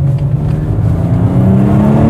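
A BMW M240i engine roars loudly and steadily as it accelerates hard, a deep sustained revving drone close by with no speech.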